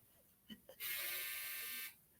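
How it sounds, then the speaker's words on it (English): A clothes dryer's end-of-cycle buzzer sounds one sustained, harsh electronic buzz lasting about a second, after a couple of faint clicks in an otherwise quiet room. "my dryer kicked off"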